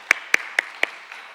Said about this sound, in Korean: 오늘도 우리의 예배를 하신 하나님께 영광의 박수 올려드리시겠습니다